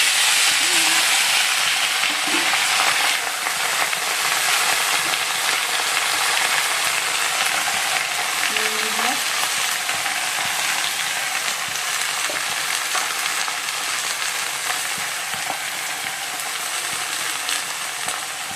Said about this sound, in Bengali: দেখো 5 ফোড়নটা হয়ে গেছে, তেলটাও গরম হয়ে গেছে। এবার শাকগুলো দিয়ে দেবো, আর এই সবজিগুলো